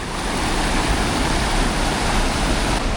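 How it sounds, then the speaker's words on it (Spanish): A swollen river running high over a vehicle crossing in Colombia, a loud, dense and unbroken roar of rushing water heard close up, with no voices over it. "el río está bien alto y no se puede pasar"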